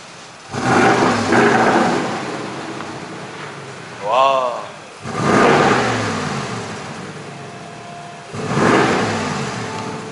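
A BMW engine exhaust revs in loud bursts, rising and falling several times, with a brief whistle-like tone between revs and low rumble throughout.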